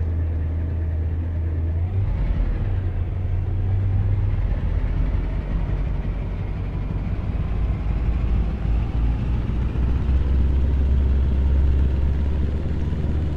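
A heavy modified Scania V8 truck in Euro Truck Simulator 2 rumbles with a deep, steady engine and exhaust drone, loud and continuous, with a slight shift in pitch early on.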